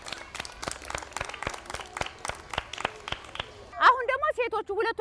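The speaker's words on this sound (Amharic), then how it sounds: "ለሁለቶችም ሞቅ ያለ ጭብጨባ ስጧቸው" A crowd gives warm, steady applause for children after a game. The dense clapping runs for several seconds and then gives way to a voice speaking.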